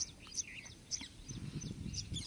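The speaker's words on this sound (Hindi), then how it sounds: "और आवाज़ सुन के देखो, सिर्फ पक्षियों के चहचहाने की आवाज़ है।" Small birds chirping in a rural village pomegranate garden, short high tweets repeating every half second or so, fairly faint, over a low background rumble.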